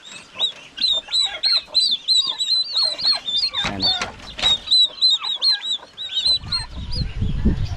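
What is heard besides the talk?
turkeys gobbling on a farm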